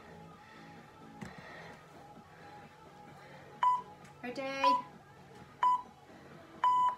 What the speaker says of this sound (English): Let's set the timer.